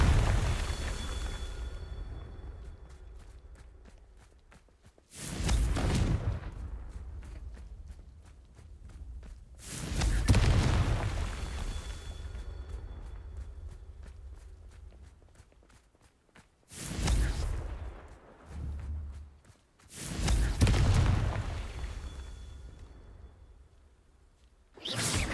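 A fire spell blasts in the Hogwarts Legacy video game, several loud bursts roughly every five seconds, each a sharp broadband boom that decays into a rumbling tail, with quieter ambience between.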